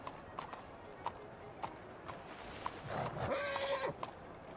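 Horse hooves clip-clop in a ranch-themed roleplay video game, a steady run of sharp, fairly close hoofbeats, followed by a short whinny-like tonal call near the end.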